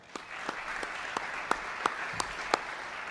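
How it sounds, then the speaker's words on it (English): Audience applause at a university new ventures competition award ceremony, a soft distant wash of clapping punctuated by a few louder, sharper individual claps spaced roughly a third of a second apart. "How about a round of applause for them?"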